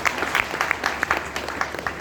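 A hall audience claps together at an RCM business gathering, steady dense applause with sharp individual hand claps standing out, sustained throughout without talk.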